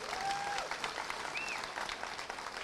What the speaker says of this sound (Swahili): Tupigie Kalonzo makofi